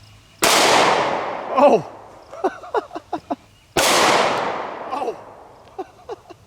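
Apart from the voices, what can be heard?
Springfield 1911 firing 45 ACP Underwood rounds at shield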